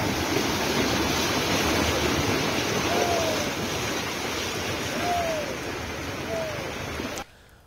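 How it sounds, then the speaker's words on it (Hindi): Floodwater three to four feet deep rushes across a road in Bagaha after days of continuous heavy rain, a steady broad roar of moving water that stops abruptly near the end, with faint brief tones rising above it. "सड़क पर 3 से 4 फीट पानी बह रहा है"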